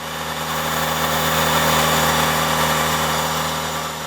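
A car engine idles steadily after a carbon-cleaning treatment, giving a continuous low hum with a faint vibrating rumble, close and even for the whole stretch, with no voices.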